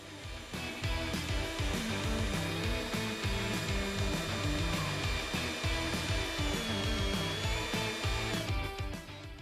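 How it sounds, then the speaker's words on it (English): A power drill with a step bit whines steadily as it bores a hole through a switch blank, a continuous loud grinding with faint rhythmic chatter, stopping near the end. "Using a step bit, we'll then drill a hole in our switch blank"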